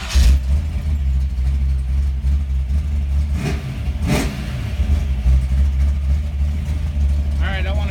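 A V8 engine fitted with a Holley 850 Ultra XP carburetor rumbles at a steady idle, loud and close, with a couple of brief blips and a voice speaking over it.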